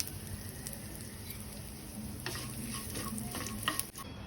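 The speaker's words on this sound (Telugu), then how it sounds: "కొంచెం జీలకర్ర, ఎండుమిర్చి, కరివేపాకు వేసుకుని దోరగా వేయించుకోవాలండి" Cumin, dry red chillies and curry leaves frying in hot oil for a tempering, a soft steady sizzle with faint stirring scrapes and small crackles near the end.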